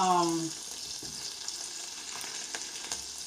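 Meatballs frying slowly in a tablespoon of their own fat over medium-low heat: a soft, even sizzle with a few faint clicks of a utensil, after a brief tone at the start.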